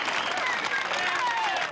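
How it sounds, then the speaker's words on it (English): A crowd outside a city hall cheers and applauds loudly, with dense clapping and shouts mixed with voices and a whistle. "the crowd went wild"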